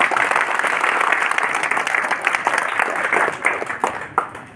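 Audience applause at a Coal India event, a dense burst of clapping that starts full and thins out over a few seconds into scattered claps.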